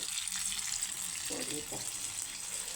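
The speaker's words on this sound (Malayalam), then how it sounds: "ഇവിടെ പഴംപൊരി ഇങ്ങനെ വറുത്തായിക്കൊണ്ടിരിക്കുന്നുണ്ട്" Pazhampori, battered banana fritters, frying in hot oil in a home kitchen, a steady close bubbling hiss throughout, with a faint voice murmuring briefly partway through.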